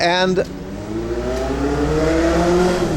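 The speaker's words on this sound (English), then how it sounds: "What car is that?" A car drives past with rising engine revs and a brief high squeal, loud and close over steady road rumble, with a voice speaking over it.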